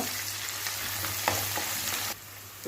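Garlic and curry leaves frying in hot oil for aloo gongura curry, a steady close sizzle with a few soft stirring clicks, dropping slightly quieter near the end.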